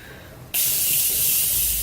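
After a moment of quiet, a sudden steady hiss of makeup setting spray starts up close and continues evenly without a break.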